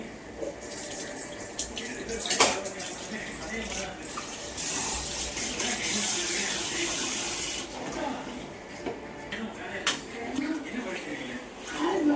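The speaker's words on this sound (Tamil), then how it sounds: "தண்ணி ஊற்று" Water runs steadily from a tap into a vessel of washed rice, splashing continuously, with someone speaking nearby and occasional clinks of dishes.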